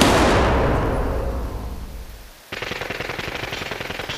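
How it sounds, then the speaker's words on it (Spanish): Distant burst of automatic gunfire at dawn, a rapid run of sharp cracks after a fading rumble of reverberation, heard alone with no voices. "Me ha parecido una ráfaga de tiros."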